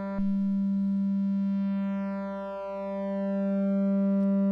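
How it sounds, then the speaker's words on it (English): A Flamingo module in a modular synth patch holds a steady sine-like drone whose strong fundamental dips and swells as control voltage sweeps, with faint descending overtone sweeps above; no voices. "you can hear that fundamental kind of bobbing in and out as the control voltage sweeps through the"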